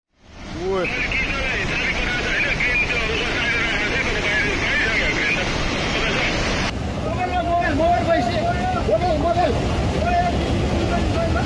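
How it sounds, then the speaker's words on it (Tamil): Roaring floodwater in Nepal sweeping away houses, vehicles and roads, a loud continuous rushing wash with wind buffeting the microphone and faint shouting voices underneath. "நேபாளில் திடீரென ஏற்பட்ட வெள்ளப்பெருக்கால் நொடிப்பொழுதில் வீடுகள், வாகனங்கள், சாலைகள் அடித்து செல்லப்பட்டன"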